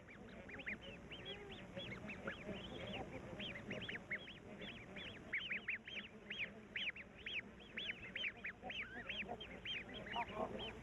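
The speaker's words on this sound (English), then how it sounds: "The bar-headed geese chicks have just begun to hatch." Bar-headed goose chicks, just hatched at a village edge in the Ladakh Himalayas, give rapid high peeping calls in dense overlapping bursts, fairly close and continuous over quiet background.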